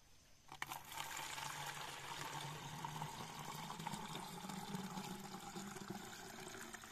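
Liquid fermentation mixture for plants being poured, a steady continuous splashing pour that starts abruptly and runs unbroken at moderate level to the end.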